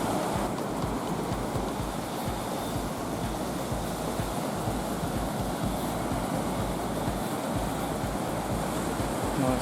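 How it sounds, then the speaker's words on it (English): Ocean waves break on a surf beach at Mirissa, Sri Lanka, as a bigger set rolls in. The surf gives a continuous, loud roar with wind rumble on the microphone and no talk. "Nice set coming through. The waves being a little bit bigger."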